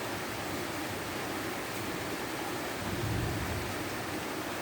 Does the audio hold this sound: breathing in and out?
no